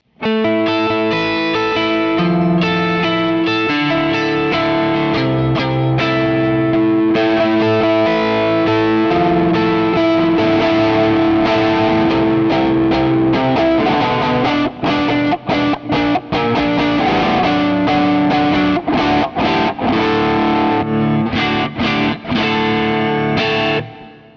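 Electric guitar through a Boss GE-7 EQ pedal with a bright, sparkly tone and a strong midrange, strummed chords and picked notes ringing continuously, loud and close with light effects.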